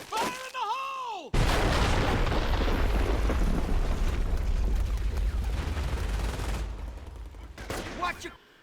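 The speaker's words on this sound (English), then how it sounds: "Engineers, blow the wire!" In Company of Heroes, engineers detonate barbed wire on Omaha Beach. A sudden loud blast follows a brief shouted voice, then roars on for several seconds amid heavy gunfire and battle rumble before fading as voices return.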